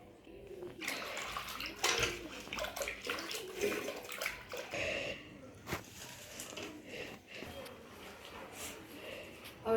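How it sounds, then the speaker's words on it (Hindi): Decorative flowers are swished and washed by hand in a tub of detergent water, giving irregular close splashing and sloshing with brief louder surges, plus some faint breathing or voice sounds. "यहीं पे सरफ के पानी जी में इनको सारे फ्लावरों को धो देती हूँ"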